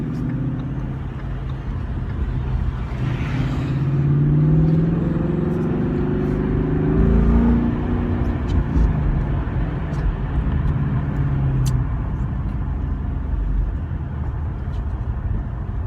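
A 2015-18 Ford Mustang with a Corsa Sport exhaust cruises with the windows down, a deep exhaust drone swelling and easing over road and wind noise.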